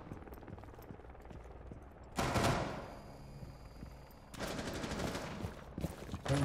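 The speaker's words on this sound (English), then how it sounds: "Shots are being fired." Gunfire is exchanged in a Rainbow Six Siege collegiate esports match: bursts of rapid automatic shots come in two sustained volleys with a dense, loud crackle over quieter game ambience.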